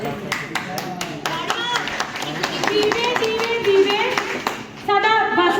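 A crowd of women claps at a Teeyan festival in Kurali, producing a crisp, rhythmic patter of applause beneath a loud voice speaking over a sound system.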